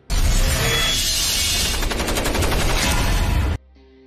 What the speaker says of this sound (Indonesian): Dengan senjata mesinnya, prajurit Amerika itu membalas serangan.